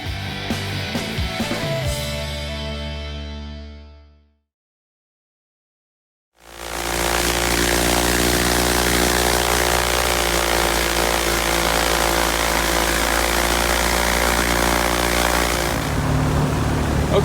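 An aircraft engine and propeller run at idle RPM during a propeller balancing session, a loud steady droning hum that cuts out into silence for about two seconds before resuming just as strongly and continuing to the end.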